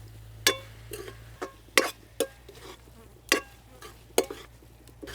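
A spoon stirs garlic and chili into fried amaranth greens in a pan, with a series of sharp scraping strokes at irregular intervals over a low, steady sizzle; no voices.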